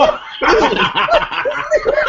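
Dogs bark in a loud, rapid scatter of yips and barks that starts after a brief quiet and carries on to the end, close by, with laughter mixed in.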